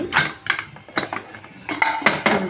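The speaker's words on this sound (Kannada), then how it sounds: "ವಿಸಿಲ್ ತೆಗೆದ್ಬಿಟ್ಟು ಕುಕ್ಕರ್ ಓಪನ್ ಮಾಡ್ತಿದ್ದೀನಿ ನೋಡಿ" A pressure cooker of peas pulao opened in a home kitchen, with a series of sharp metallic clinks and clanks of lid and vessel, close and distinct, about eight hits in quick irregular rhythm.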